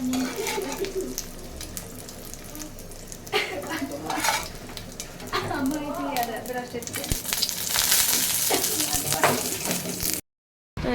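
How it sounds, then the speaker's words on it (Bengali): Dried chapa shutki fish cooks in a pan in a home kitchen, a continuous close sizzle with stirring and scraping, and running tap water joins in toward the end. "আজকে চাপা শুটকি দিয়ে বানাইতেছি"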